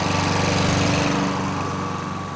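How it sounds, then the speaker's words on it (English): A Dayliff lawn mower engine runs steadily with the propel lever engaged, a loud, close, continuous buzzing drone that eases slightly in level partway through. "The mower is then operated with the lever in that position."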